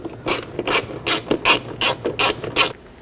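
A ratchet clicks in quick repeated strokes, about eight bursts in a steady rhythm, as it snugs down the bolts holding a side mirror on a 2019-20 Chevy Silverado, close and clear with no talking.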